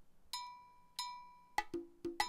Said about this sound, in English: like a triangle kind of sound